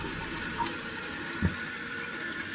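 A toilet flushing after the flapper is pulled up by hand, a continuous rushing wash of water with a small gurgle midway, moderately close and without talk.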